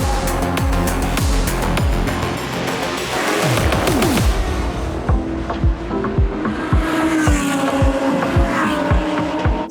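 A Cobra racing car drives at Kyalami circuit during a nine-hour endurance race, its loud engine roaring and revving continuously, with repeated shifts and tire squeal as it passes close by.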